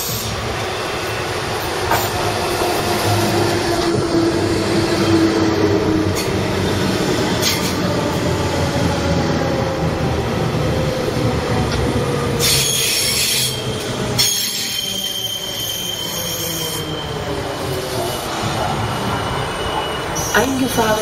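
An S-Bahn train pulling into a Berlin station, with long high-pitched wheel squeals over rumbling rail noise and clatter, loud and sustained, and faint station sounds in the background.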